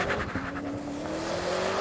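A BMW M5 launches off the line, engine droning loudly as the tires scrabble with a thin squeal that settles into a steady rising tone, brief and close.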